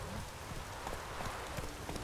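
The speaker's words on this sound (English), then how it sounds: "Oh, raining again." Steady rain pours across the open world of The Witcher 3: Wild Hunt, a dense, continuous hiss with scattered drop patters, fairly close and even throughout, with no talk.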